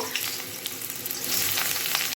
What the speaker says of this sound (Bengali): একটা লোহার কড়াই গরম করে তাতে বেগুনগুলো আগে ছেড়ে দেব